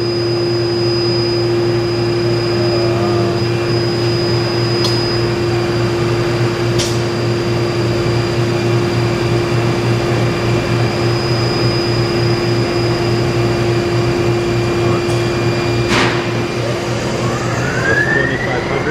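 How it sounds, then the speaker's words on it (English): A Takisawa CNC lathe spins at high RPM, a loud, steady machine hum with sustained whining tones that holds constant throughout, with occasional faint clicks above it. "just maybe take it up to higher RPM"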